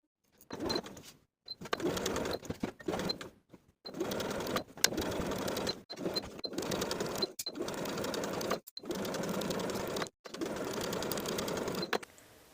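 Sewing machine topstitching along the front of a Gilbert top garment, running in about ten steady bursts separated by short pauses, close and clear with a fine rapid needle rhythm.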